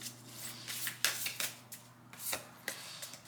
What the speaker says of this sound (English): It's difficult to shuffle these.